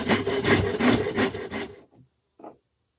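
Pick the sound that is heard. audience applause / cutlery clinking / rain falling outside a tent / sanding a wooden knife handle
sanding a wooden knife handle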